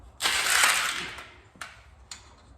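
A ratchet wrench tightens a nut on a spindle while Moroso trick springs are installed, giving one long rapid close clicking run followed by two short single clicks, with no talk.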